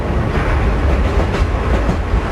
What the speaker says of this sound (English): We're on a train that's been taken out of service.